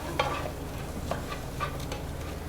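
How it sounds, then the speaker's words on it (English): Vegetables saute in a pan with a soft, constant sizzle and a handful of light stirring scrapes, close by and without talk. "we're going to let that saute down just a little bit, so about 4 minutes"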